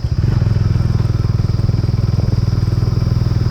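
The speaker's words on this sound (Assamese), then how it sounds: "বাইক চলাইছে" A motorcycle ridden on a mountain road in Dong Valley, Arunachal Pradesh, its engine chugging with a loud, steady rapid pulse close by, holding a constant throttle throughout.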